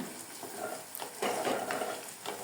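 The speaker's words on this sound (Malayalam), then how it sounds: "ഇഞ്ചി ചെറുതായി അരിഞ്ഞതും ഒരു രണ്ട് പച്ചമുളക് ചെറുതായി അരിഞ്ഞതും കൂടെ ചേർത്ത് കൊടുക്കുന്നുണ്ട് എന്നിട്ട് നന്നായിട്ടൊന്ന് മൂപ്പിച്ചെടുക്കാം" Finely chopped ginger and green chillies sauté in a pan for loobikka pickle, making a continuous quiet hissing sizzle with intermittent stirring scrapes, close and fairly faint, without any speech.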